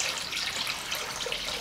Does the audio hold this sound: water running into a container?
yes